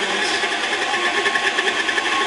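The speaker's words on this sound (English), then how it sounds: "now we're going to put it in the mixer" Electric mixer whirring steadily on low speed through butter, cream cheese, egg and powdered sugar, a close continuous motor drone with a faint rhythmic churn.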